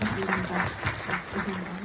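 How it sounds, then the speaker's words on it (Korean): Audience applause at a Korean film guest-visit screening Q&A, steady clapping filling the hall for about two seconds, with faint voices underneath. "큰 박수"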